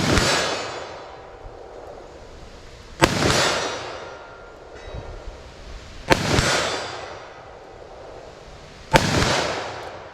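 A snub nose revolver fires .357 Magnum 125 grain jacketed soft point rounds: four loud, sharp blasts about three seconds apart, each trailing off in a long ringing echo, with no talk.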